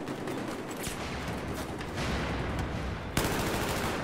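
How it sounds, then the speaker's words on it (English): Grenades and gunfire in a Battlefield 4 multiplayer match on PS4, a dense crackling barrage of shots and blasts with a sharp louder burst near the end, continuous and close, no clear talking. "I'm just gonna toss my grenades"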